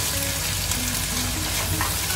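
Tomato frying in a wok with shrimp paste and ikan bilis for tauhu sambal, a dense continuous sizzle close up with faint stirring, no talking.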